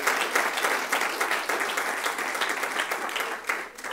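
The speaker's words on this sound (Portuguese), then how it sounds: "Quem crê, dê um aplauso forte para ele" A church congregation bursts into strong applause, dense steady clapping filling the room at close range for the whole stretch with no pause.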